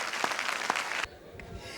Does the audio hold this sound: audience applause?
yes